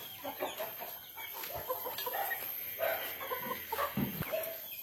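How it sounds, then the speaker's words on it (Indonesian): Young roosters in a backyard coop cluck and crow in short, overlapping bursts, fairly close, with a faint steady hum beneath and no speech. "ini perkembangan ayam pejantan."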